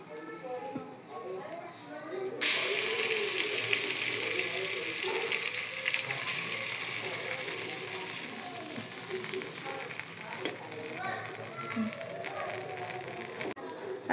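Ghee sizzling in a hot pot set on a heated griddle while dum biryani is being made, a steady loud frying hiss that starts abruptly and carries on, with a voice talking over it.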